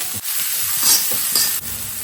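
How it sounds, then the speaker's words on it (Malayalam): Onion sizzles loudly in a pan with garlic, a steady close frying hiss broken by a few brief stirring scrapes, with no voices. "ഇനി സവാള കേട്ടോ, സവാള ചേർത്ത് കൊടുക്കും"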